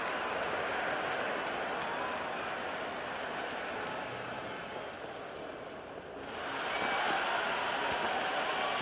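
A stadium crowd in the cricket video game Cricket 26 roars and applauds in a steady, dense wash of noise that dips briefly and then swells again.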